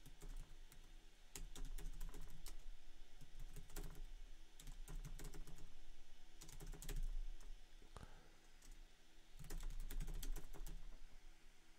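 Computer keyboard typing in bursts of rapid, close key clicks with short pauses between words, steady and moderately quiet, no voices.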